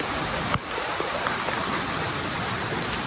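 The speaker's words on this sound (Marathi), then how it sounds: "पाण्याचा आवाज तुम्ही ऐकू शकतात मित्रांनो" Devkund waterfall on a monsoon trek, its rushing water a steady, faint broadband hiss that continues unbroken with no voices over it.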